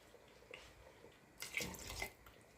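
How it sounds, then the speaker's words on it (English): Water is poured into a pan of tomato sauce while classic Italian meatballs are being made, giving a brief, fairly quiet splashing pour in a kitchen. "I'm just gonna go in with another half a cup of water."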